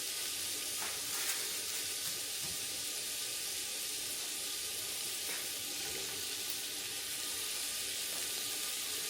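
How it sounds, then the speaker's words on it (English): Vegetables sauteing in oil and butter in a pan make a steady, bright sizzle that holds evenly throughout, close and continuous with faint stirring scrapes and no talk. "So now I'm just going to saute these vegetables to get them kind of tender."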